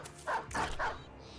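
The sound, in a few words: war dogs barking in video game Battle Brothers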